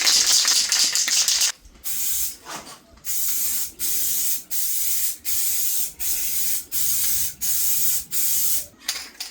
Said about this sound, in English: Give them a quick stand over just to give the tint spray something to cling onto.